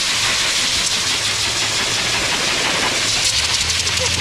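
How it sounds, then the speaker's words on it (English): A dog blower dryer running steadily, a loud, continuous broadband rush of air that stays even throughout, close to the microphone with no pauses. "You can hear in this video that the unit is fairly quiet for a blower."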